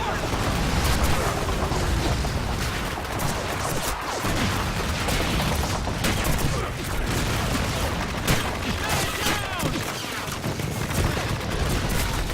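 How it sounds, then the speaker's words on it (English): MG-42 machine gun fire in the World War II shooter Call of Duty 2, dense sustained bursts mixed with booms and battlefield chaos, loud and continuous with voices shouting underneath. "Machine gun MG-42 to the north."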